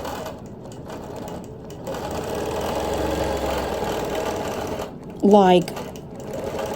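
A sewing machine quilting a log cabin quilt with ruler work and contrasting thread runs steadily with a low mechanical hum, while someone talks over it.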